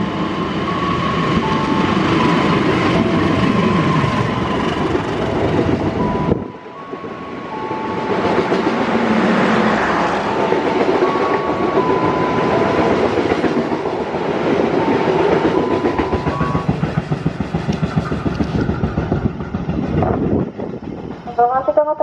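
Long PSO passenger train of 13 cars rumbling past on the railway, a loud steady roar with rhythmic clickety-clack of wheels, a brief dip midway, continuing near and strong throughout.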